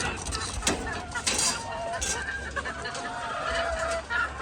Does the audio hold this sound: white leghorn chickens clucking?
yes